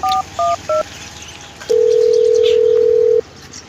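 A telephone call is dialed: three short, clipped keypad tones in quick succession, a brief pause, then a loud, steady tone held for about a second and a half before it cuts off.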